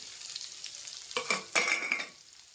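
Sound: onion frying with curry leaves and cumin

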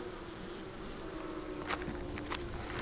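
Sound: honey bees buzzing at the hive

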